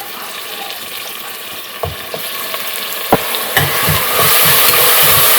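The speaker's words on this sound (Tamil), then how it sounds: "2 ஆனியன் எடுத்து கட் பண்ணி வச்சுருக்கேன். இது நல்லா வதங்கட்டுங்க, நல்லா வதக்கிடலாம்." Chopped onions and a ground spice paste sauté in a hot pan for a chana curry, giving a steady close sizzle broken by several soft knocks of stirring.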